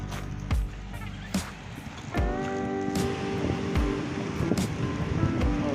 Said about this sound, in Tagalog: Tayo ngayon sa dagat.